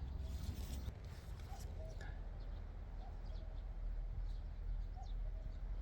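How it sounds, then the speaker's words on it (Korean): A common cuckoo calls faintly in the distance a few times at dawn on a farm plot, its soft two-note hoots spaced apart over a low, steady outdoor rumble. "뻐꾸기 소리도 납니다"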